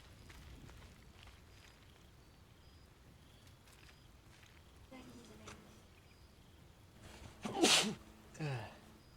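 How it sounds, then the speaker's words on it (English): A person sneezes loudly and close, one sharp burst followed shortly by a smaller second one, after quiet rustling in an outdoor woodland scene in the game Baldur's Gate 3. "I gotta sneeze again."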